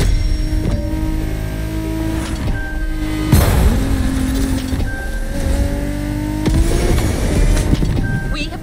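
BMW Z4 M40i convertible engine in The Crew Motorfest driving through the backcountry, a steady revving drone with shifting pitch and gear changes, loud and continuous, with voices talking over it.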